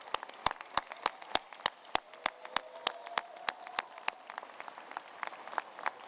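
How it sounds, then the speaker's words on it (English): Sparse applause at an engineering school commencement ceremony, made of individual distinct claps in an irregular patter, moderately faint and spread across the hall. "Give them a round of applause."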